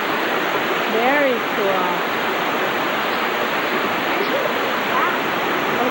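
A waterfall in Michigan's Upper Peninsula rushes in a constant broad roar of falling water, loud and close, with voices briefly speaking over it.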